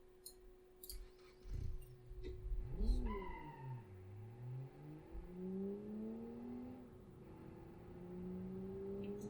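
A boxer engine car revs in BeamNG video game play, designed in Automation; its quiet, smooth tone sweeps up and down in pitch over a low hum.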